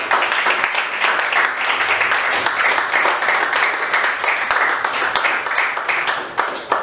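A church congregation applauding, dense sustained clapping that fills the space evenly and loudly for several seconds before starting to thin near the end.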